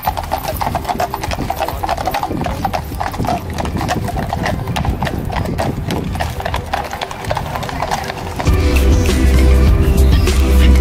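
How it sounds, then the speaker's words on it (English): Police horses' hooves clip-clop steadily on pavement amid London city traffic noise near Buckingham Palace, with a louder engine rumble rising near the end. "we see the police on horses"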